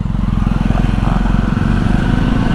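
A Jawa 42 motorcycle with its dB killer removed thumps loudly at close range, a fast, steady exhaust pulse with no voices over it.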